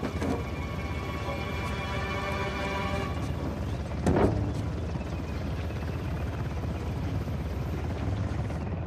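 A helicopter in the video game Uncharted: The Lost Legacy, a steady droning rotor and engine rumble filling the whole stretch with a brief louder swell midway, no speech over it.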